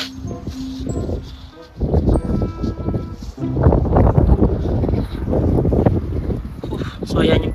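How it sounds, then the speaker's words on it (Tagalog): Strong, gusty wind buffets the microphone outdoors on a cold, sunny day in a small Alberta town, rumbling continuously in loud surges while a person talks over it. "Ang lakas ng hangin. Sobra."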